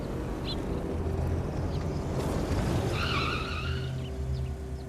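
A car brakes to a halt, a steady road rumble with a brief high squeal partway through, with no talk.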